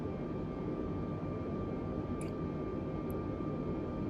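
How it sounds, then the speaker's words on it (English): Steady airliner engine drone from an Airbus A320 in Microsoft Flight Simulator 2020, a continuous broadband roar with a faint high whine, even and unbroken in flight. "I'll start slowing the plane down"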